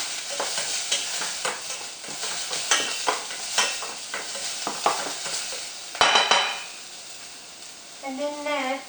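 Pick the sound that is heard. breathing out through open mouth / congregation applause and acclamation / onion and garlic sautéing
onion and garlic sautéing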